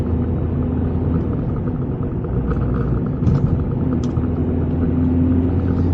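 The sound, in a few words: car engine induction noise while driving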